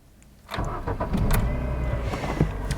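A small Ford Puma car engine starts up and settles into a steady, fairly quiet idle nearby.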